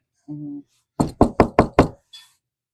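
Five quick, loud knocks on a door in an even rhythm, preceded by a short tone and followed by a faint rustle, heard close with no talk.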